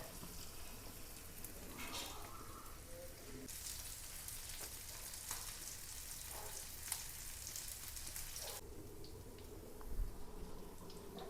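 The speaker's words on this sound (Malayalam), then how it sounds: "ഞാനത് ഉപ്പ് പുരട്ടി വെച്ചിരുന്നു അതൊന്ന് വറുത്തെടുക്കണേണ്" Steady, close sizzling of small salted fish frying in oil, with crackles and occasional utensil taps, rising and falling in intensity.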